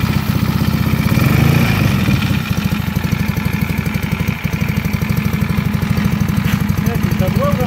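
A 1950 Sunbeam S7 De Luxe 500cc motorcycle idles steadily nearby, its engine ticking over in a fast, even rhythm throughout while people talk over it.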